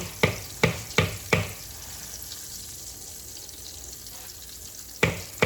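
Pork chops brown in a pan under a soft, steady sizzle. Four sharp knocks come early and two more at the end, close by, with no one speaking.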